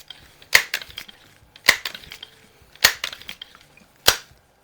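A .22 air rifle, an antique Crosman 102 or Quackenbush No. 5, being cocked by pulling back, giving four sharp mechanical clacks at regular intervals of about a second, close and loud against a quiet background.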